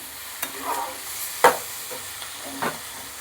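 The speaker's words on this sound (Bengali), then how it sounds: "ভালো করে আমি ভেজে নেব সবজিগুলোকে সব।" Vegetables frying in a pan with soft sizzling and a few distinct scraping stir strokes, close and clear, no talking.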